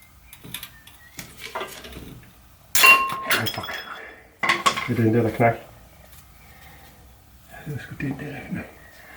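A small socket snaps while a bolt is being tightened on a Mercedes-Benz 240TD diesel during a clutch change, giving a sharp sudden crack with a metallic clink and rattle, followed by faint talk.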